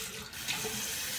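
Hot and cold tap water runs steadily into a sink for rinsing after a shave, a close, even splashing stream with no talking.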